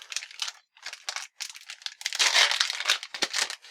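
Close, crinkly ripping and tearing of Kamen Rider Eyecon toy packaging in quick bursts, rising to a longer, louder stretch of crumpling plastic and paper with no talking.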